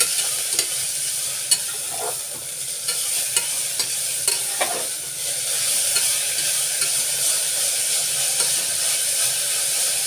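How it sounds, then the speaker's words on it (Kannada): Dill greens frying in a pan for a dill leaf bath, with a steady bright hiss of oil under scattered light scraping stirs, continuous throughout and no talking. "ಹಾಕಿಕೊಂಡಿರೋ ಸೊಪ್ಪನ್ನು ಸ್ವಲ್ಪ ಹುರ್ಕೊಳ್ಳೋಣ"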